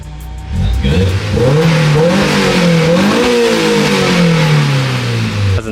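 Loud and up close, a Honda S2K with a freshly installed exhaust is revved, the deep engine pitch climbing, wavering and then dropping back toward idle over several seconds, with a voice heard around it.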